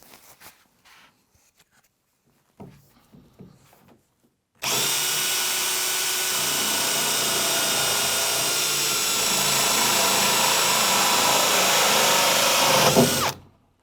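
A few soft knocks and handling noises, then a power drill starts and whines loudly and steadily for several seconds while cutting a tap hole in an acrylic bath, before stopping abruptly.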